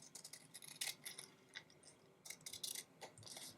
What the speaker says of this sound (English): And cut it down just a little bit more.